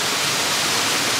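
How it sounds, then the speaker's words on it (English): Rushing water from a waterfall along a hiking trail fills the air as a steady, loud, broadband roar with no breaks or voices. "I can see some waterfall."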